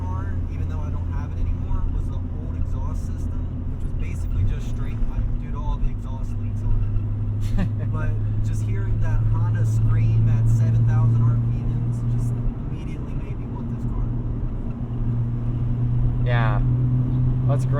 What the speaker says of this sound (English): The exhaust you have on here now, it's got a little bit of rasp, but it's not too bad.